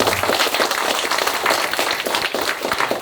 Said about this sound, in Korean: 큰 박수로 긴장도 풀려 부탁드리겠습니다